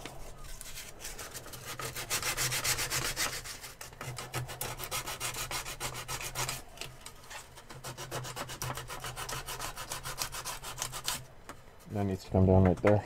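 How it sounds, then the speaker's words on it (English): Light hand sanding over a workpiece during a live build, a steady close rasping and rubbing that continues through most of the stretch with brief pauses, ending with a short burst of a different tonal sound. "Let's go over everything a little bit with the light sanding and see what we got."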